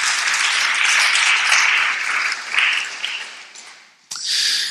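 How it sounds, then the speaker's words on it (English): Audience applause for a speaker introduced at an evening debate on caste legislation, a steady wash of many hands clapping that thins out briefly before a fresh burst near the end. "Please round of applause for Dr. Shah."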